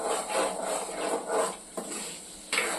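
Chili and garlic sautéing in vinegar in a pan, a soft continuous sizzle with stirring scrapes and a couple of sharp clinks, close by and with no talking.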